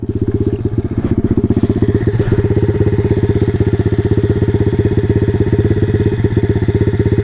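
A Taotao DB17 125 dirt bike engine running hard while being ridden, a loud, close, rapid pulsing thump with a gritty rasp, holding a steady high rhythm for the whole stretch.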